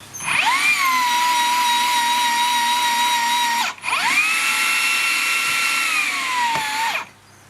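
A Hikoki 36V cordless rebar cutter and bender runs loudly through two long bending strokes, each a steady high motor whine that winds down briefly between them before stopping, close and alone.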